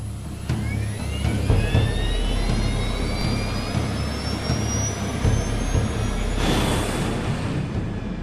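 TWA flight 800's jet airliner engines spool up to takeoff thrust, a loud sustained roar with a rising turbine whine that swells and then surges near the end.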